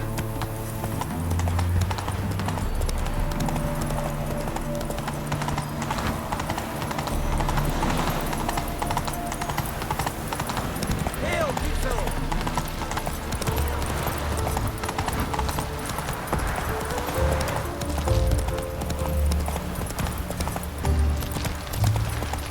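Roach, a horse in The Witcher 3, gallops with a steady, loud clip-clop of hooves that runs throughout, backed by continuous game ambience and music.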